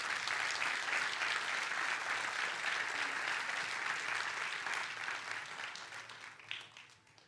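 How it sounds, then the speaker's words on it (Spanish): A church congregation claps loudly and steadily in thick applause for God, which gradually fades toward the end. "¿Cuántos le quieren dar un fuerte aplauso a Dios por eso?"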